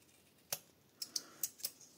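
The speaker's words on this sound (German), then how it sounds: "Dann nehme ich jetzt mal einmal meine lange Schere und schneide hier einfach noch mal einmal entlang." Long scissors snip through designer paper while cutting a pop-up card, giving about six quiet, sharp clicks spread unevenly over a couple of seconds.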